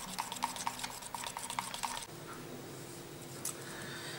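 A cosmetic mixture for a firming, toning and moisturizing product is stirred briskly in a container, giving a quick series of close scraping, clinking strokes for about two seconds, then a quieter stretch.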